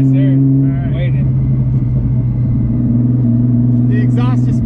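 A 1700hp Nissan GT-R idles with no exhaust fitted, a loud, steady droning rumble that holds at one pitch, while people talk over it close by.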